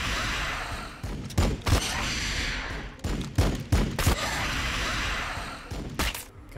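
Loud bursts of weapon fire erupt repeatedly in a Warhammer 40,000: Battlesector battle, clustered volleys separated by short lulls over a steady background of combat noise.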